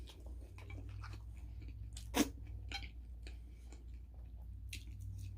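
Someone eating crispy hard-shell potato tacos, tacos de papas: a single loud crunchy bite partway through, with softer chewing and faint mouth sounds around it over a steady low background hum.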